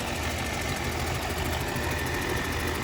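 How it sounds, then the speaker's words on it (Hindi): The Volvo Eicher BS4 diesel engine of a 2024 combine harvester runs steadily up close, a loud, even rumbling clatter with constant vibration and no voices. "ये देखिए जी, वोल्वो आइसर का इंजन है जी, बहुत ही बढ़िया।"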